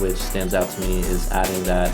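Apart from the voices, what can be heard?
No everyday noises stand out.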